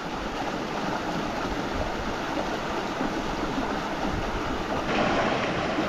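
A shallow river in flood conditions flows steadily, giving a constant broadband rush of moving water that stays loud and unbroken throughout with no voices.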